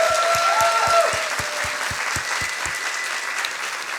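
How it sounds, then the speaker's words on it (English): An audience at a science slam stage show applauds, with dense steady clapping that begins strong and gradually thins, over a faint held tone early on. "So a big applause for everybody of us."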